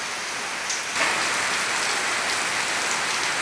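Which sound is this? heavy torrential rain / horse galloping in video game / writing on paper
heavy torrential rain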